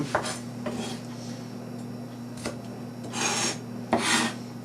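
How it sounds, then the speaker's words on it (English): A knife runs through shallot on a cutting board, giving a few separate scraping, rasping passes with short pauses between them, close and fairly quiet under a steady low hum, with no talk. "just run my knife through it, just to get some nice fine shallot"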